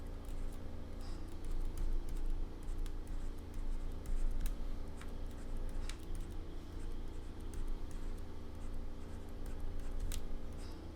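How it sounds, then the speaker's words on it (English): A pen writes out a numbering system by hand on paper, producing faint, close scratching and light tapping strokes in an irregular rhythm against quiet room noise, with no talking. "the easiest way to do that is to write out the numbering system"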